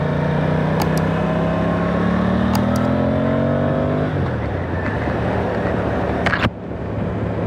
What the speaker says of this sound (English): I am on the brand new Aprilia Tuono 660